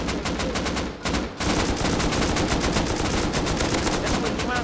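Rapid automatic gunfire fills a raid in the survival video game Rust, a dense loud stream of shots with a brief pause before the firing resumes nonstop.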